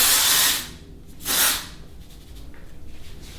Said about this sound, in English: you just spray it all in, and give it a little zhuzh